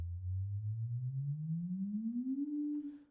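A synthesized cinematic riser sweeps as a smooth tone climbing steadily in pitch over about three seconds, then levels off with a brief hiss at the end, steady and moderately loud with no voices.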